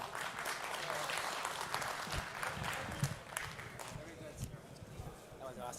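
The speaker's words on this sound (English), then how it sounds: "You can clap." Applause from a men's group after a church meeting, moderate clapping in a room mixed with scattered voices and chatter, with a few louder claps and thumps standing out.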